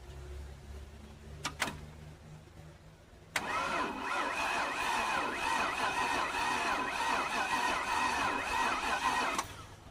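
Car engine cranking over on a battery swapped in from a Cadillac: a couple of brief clicks, then a sustained, even whirring crank for about six seconds that cuts off abruptly.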